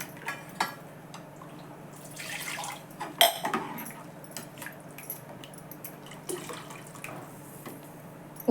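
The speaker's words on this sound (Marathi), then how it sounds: "पाणी घालून घेते अजून" Water poured into a pot of Maharashtrian dal amti as it cooks with its tempering and ground dal paste: quiet, uneven splashes and drips with a few light clinks of a vessel against a low, steady background.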